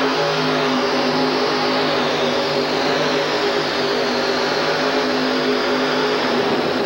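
The 2WD pulling truck Darth Invader roars at the starting line of a 1989 USHRA truck pull in Orlando, Florida, its engine a loud, sustained, heavy drone that holds steady throughout.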